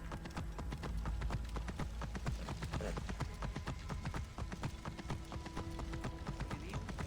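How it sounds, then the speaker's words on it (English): Horse hooves clip-clop in a steady, fast rhythm throughout a video game horse ride, loud and close, with a faint background tone and no speech. "That horse ride?"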